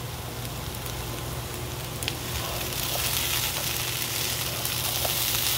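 Onion and longaniza sausage frying with potatoes in a pan, a steady, close crackling sizzle that runs throughout with occasional sharper pops.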